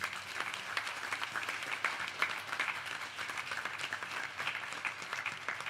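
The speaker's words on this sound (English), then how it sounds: "Give those people a round of applause, please." A temple audience in Mississauga claps in sustained, even applause throughout, a steady crowd texture at moderate distance with no talking.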